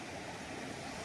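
Low, steady wash of rough ocean surf at a Boracay beach, a continuous distant roar of waves with no distinct breaks, faint and brief.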